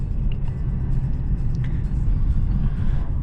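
A 1999 BMW 328i E46 driving on a road, its steady low engine and road rumble filling the cabin continuously, with no talk over it.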